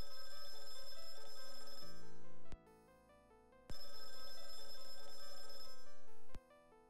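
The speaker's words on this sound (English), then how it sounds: "Hey, the phone's ringing." Telephone ringing in the video game Companions of Xanth: a bright electronic bell ring sounds twice in long bursts separated by a short pause, over a steady background music tone.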